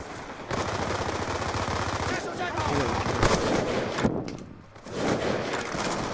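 Rapid bursts of video game gunfire from a capture-the-flag race match, dense automatic shots running almost continuously with brief gaps, loud and close, while players talk over it.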